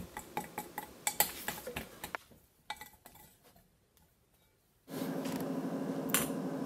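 Dough is mixed in a bowl with quick, irregular tapping and scraping clicks of a utensil against the bowl, close and fairly faint, pausing briefly before a steady background hiss takes over.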